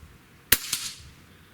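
A single shot from an Air Venturi Avenger .25 caliber regulated PCP air rifle, a sharp close crack followed by a quick fainter echo or pellet impact, then quiet outdoor background.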